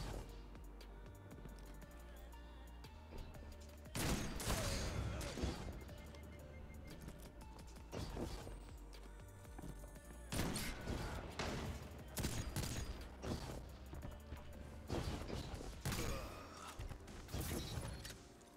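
Shotgun blasts in the game Destiny 2, several loud bursts of gunfire in separate clusters with crashing impacts between stretches of quieter background game sound, no talking.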